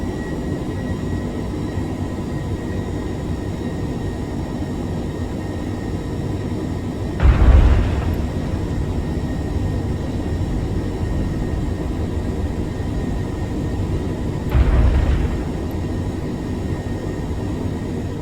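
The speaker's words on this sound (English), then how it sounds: "bring your throttles back to idle and glide it down for a landing" F-22 Raptor jet gliding in to land in a flight simulator game, a steady low engine drone with two brief thumping bursts, no talking.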